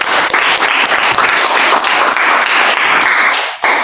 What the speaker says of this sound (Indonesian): Bagus, tepuk tangan, Nak